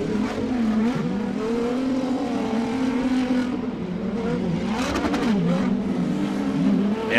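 Off-road Pro Spec race trucks at Crandon, a steady loud engine roar with revs rising and falling as trucks race and land off a jump, sustained mechanical noise throughout.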